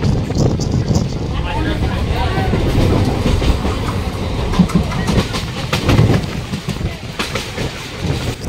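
A local train crosses the Bata railway bridge on Newland Road near Batanagar, on the Budge Budge line, with steady rumbling wheel and carriage noise and some clattering throughout, heard from on board at close range.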